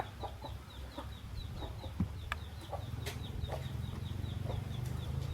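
Chickens being fed bananas cluck and cackle in short repeated calls at moderate distance, over a steady low background rumble, with no talking.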